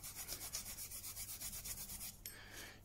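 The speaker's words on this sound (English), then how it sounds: "If you see the rust on there, just by going over with the Gary Flex block," Garryflex abrasive block rubbed back and forth over a rusty Stanley knife blade, a steady rhythmic rasping of about a dozen close strokes, then a brief softer scrape at the end; no talking.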